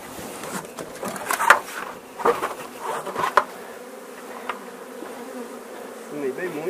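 A swarm of Apis honey bees buzzing steadily around a hive during colony splitting, a continuous close drone with individual bees swelling louder as they pass near, no talking.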